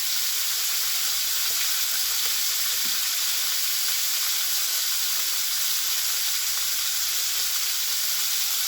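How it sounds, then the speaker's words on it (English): Steady, broad hiss of food sizzling in a hot frying pan, continuous and close, with no talking over it. "all you can hear is the pan sizzling"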